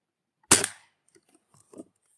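A single sharp crack from a Crosman Boat Paddle air pistol, close and loud with a quick decay, followed by faint small clicks and rattles.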